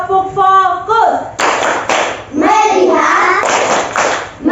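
A class of children in an Indonesian classroom claps out a focus clap chant, sharp bursts of hand claps mixed with loud chanted voices close by.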